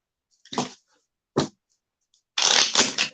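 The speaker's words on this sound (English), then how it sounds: "Did a really good shuffle on these." Cards being shuffled: two short riffling bursts followed by a longer, louder riffle, close up with silence in between and no voices.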